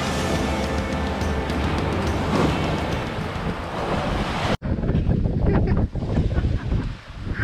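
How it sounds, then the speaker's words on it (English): Wind roars and waves wash around a sailing boat off Denmark in rolling, bumpy seas, a loud continuous rush that cuts off sharply partway through, then resumes with splashing surges. "The waves are picking up."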